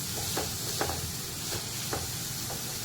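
Chopped onion frying in a pan over a low flame gives a steady soft sizzle, broken about every half second to second by brief stirring scrapes.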